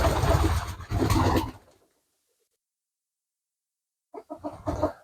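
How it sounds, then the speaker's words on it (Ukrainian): A pair of pouter pigeons in a loft give deep, loud cooing bursts up close, one long run of calls, a silent gap, then a shorter stuttering run. "Це пара дутичів."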